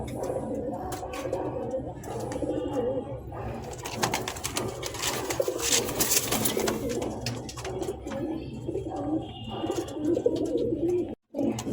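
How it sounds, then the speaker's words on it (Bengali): Domestic pigeons cooing steadily and close by, a continuous low rolling call that runs through the whole stretch with a brief drop near the end. "অন্য একটা কবুতর দিয়ে ডাক শোনানোর জন্য আপনাদের দেখাচ্ছি"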